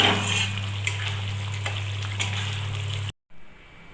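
Katla fish curry being stirred in a pan, a steady sizzle with soft scraping strokes over a constant low hum, ending abruptly in a brief silence.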